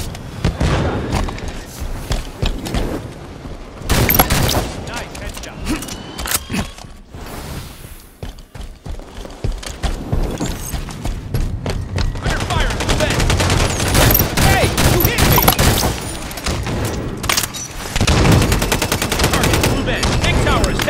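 Rapid automatic-weapon bursts and single shots crack through a Halo 5: Guardians multiplayer match, with dense fusillades, booms and a pause midway before the firing builds again, while game announcer voices speak over it.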